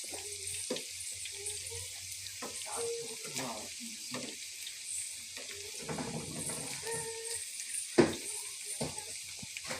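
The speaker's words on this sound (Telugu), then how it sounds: "ఇలా మన దగ్గర ఉన్నాయన్నీ మంచిగా గోల్డెన్ బ్రౌన్ వచ్చేంత వరకు మాడిపోకుండా వేపుకోండి" Battered cabbage Manchurian pieces fry in hot oil on a low flame, giving off a soft, uneven sizzle in short bursts with a few clinks and louder crackles, under a voice speaking Telugu.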